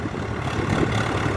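A Swaraj 744 tractor pulling a trailer loaded with about 150 quintals revs briefly, a short burst of dense, rough engine roar at moderate loudness.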